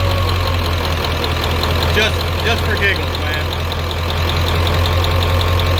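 A Ford 7.3 diesel truck engine idles steadily after startup with a deep, even rumble throughout, while someone talks briefly over it.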